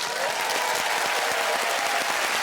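A studio audience at a children's comedy game show applauds, giving dense, continuous clapping that holds at an even, loud level throughout.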